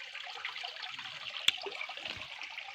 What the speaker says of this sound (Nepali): पानी यसरी निस्केछ